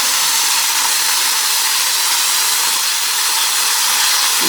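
Turkey berries (sundakkai) frying in hot oil with asafoetida, giving a steady, loud, close hiss and sizzle that holds evenly throughout with no pauses or voices.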